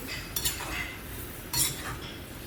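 Cutlery clinks and scrapes against a dish while wholemeal bread is mixed with eggs, with two sharp metallic taps close together, a short stirring scrape, then another clink.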